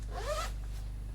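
A clothing zipper is pulled along its track in one smooth rising zip lasting about half a second, close and clear, followed by quiet room noise and a low steady hum.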